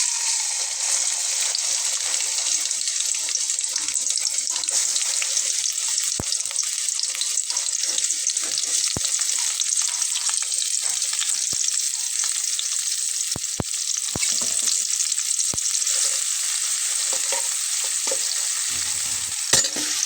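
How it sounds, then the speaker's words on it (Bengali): Cloves, cinnamon, cardamom and black pepper crackle and sizzle steadily in hot oil for a masala chicken curry, a continuous close frying hiss with occasional sharp pops and no talking. "এখানে দিয়ে নেব লবঙ্গ, দারচিনি, এলাচ, গোলমরিচ, এগুলা। তোমার তেলটা কিন্তু গরম হয়ে গেছে।"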